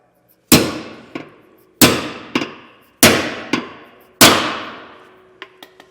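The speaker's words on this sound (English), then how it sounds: "these do have the knurls on them, so we do need to hammer that in" A knurled bolt being hammered into a leaf spring eye during a Roadmaster Comfort Ride suspension kit install, heard as four loud, ringing metallic strikes at roughly one-second intervals, each followed by a lighter bounce, then a few faint taps.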